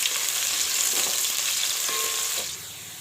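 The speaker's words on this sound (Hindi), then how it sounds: "अब मैं इसमें डाल दूंगी दरमियानी प्याज जो मैंने स्लाइस में काट ली है, इसको फ्राई कर लेंगे।" Sliced onions sizzle steadily in hot oil in a pot for a Pakistani-style whole masoor lentil and rice dish. The loud, constant crackle fades a little near the end, and no one speaks.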